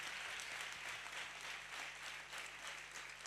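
A church congregation applauds and cheers for the Holy Spirit during a sermon, a steady wash of clapping and voices lasting the whole moment, fairly distant and even in level.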